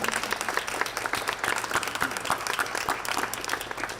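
Hands clap through an audience at a government housing funding announcement in Southern Ontario, a moderate, evenly spread patter of applause heard from a little distance.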